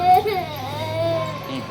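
A baby cries and whimpers while getting a haircut, a loud wavering wail held close up over a short stretch with faint babble around it.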